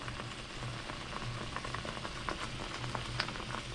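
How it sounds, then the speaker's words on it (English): Seasoning for homemade barbecue sauce sautéing in a pan, a steady soft sizzle broken by the occasional scrape or stir and faint clinks, heard up close with no talking. "I'm just gonna saute this for like 5 minutes until I think my season is cooked"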